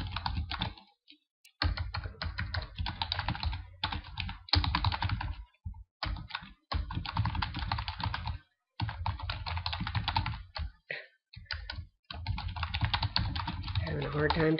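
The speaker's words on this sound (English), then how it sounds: "Having a hard time typing" Rapid clicking of keys on a computer keyboard in uneven bursts separated by brief pauses, close up.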